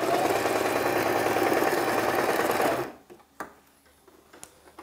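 Sewing machine stitching steadily to the end of a garment sleeve for almost three seconds, then stopping abruptly, followed by a few faint clicks and handling sounds.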